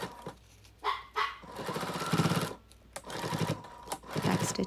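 A sewing machine stitches padded backpack straps with binding, back-stitching over them, in bursts of fast mechanical whirring separated by short pauses, close and with no voice over it.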